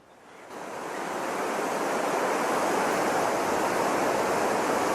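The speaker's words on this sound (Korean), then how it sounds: "나야가라 폭포를 보십시오." Niagara Falls roars as a steady, loud wall of broadband water noise that swells in over the first second and then holds constant, played back during a church sermon with no talking over it.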